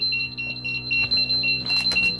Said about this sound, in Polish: Ten alarm.